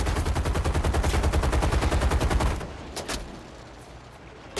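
Rapid sustained aircraft machine gun fire in War Thunder, a loud even burst of dense rattling shots for about two and a half seconds that cuts off, followed by a few faint scattered reports.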